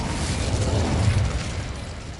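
A fire spell bursts out in Hogwarts Legacy, a dense low whooshing roar with a rumbling, explosive body that holds steady for about two seconds before easing slightly.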